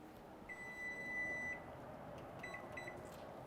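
A kitchen timer signals that boiled potatoes are done, with one long steady electronic beep followed after a pause by a few shorter beeps, faint against low kitchen background noise.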